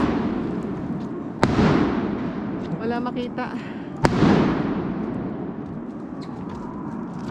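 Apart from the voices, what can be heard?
fireworks exploding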